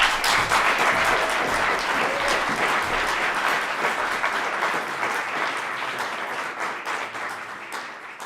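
Audience at a state poetry recitation competition breaks into loud, sustained applause after a poem, thick steady clapping that fades slightly toward the end.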